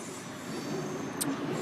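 A train passes through a railway station, a steady, close rumble of wheels and carriages that grows louder after the first half-second and holds, with a brief high hiss near the end.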